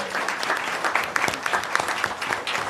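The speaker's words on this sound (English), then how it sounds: "And you know why they're clapping?" A council meeting audience in Modesto claps for a speaker's wife, dense, even applause with scattered sharper claps, sustained and moderately loud throughout.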